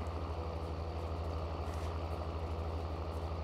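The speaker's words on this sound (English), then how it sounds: "This tractor does sound good." A steady, low tractor engine drone from a farming video game idles throughout, a deep constant rumble with a faint rough texture and no talking.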